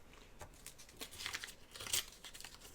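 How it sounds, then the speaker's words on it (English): Several short bursts of paper ripping along the edge of an old book page, crinkly and close, with brief pauses between tears and a louder rip near the end. "but I want to tear the edge"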